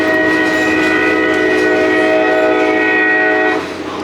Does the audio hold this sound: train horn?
yes